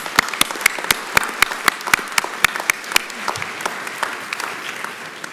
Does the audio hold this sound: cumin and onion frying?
no